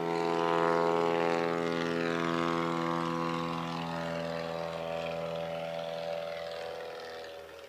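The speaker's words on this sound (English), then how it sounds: "Courier now taxiing up to the line in his SQ" A Courier SQ light aircraft with leading-edge slats taxis at a STOL competition fly-in, its propeller engine droning loud and close with a steady harmonic hum that eases slightly toward the end.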